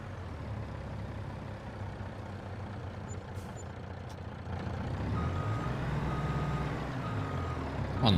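A truck in a Farming Simulator game reverses with steady, evenly spaced beeps over a low engine rumble, the engine swelling louder partway through; no talking.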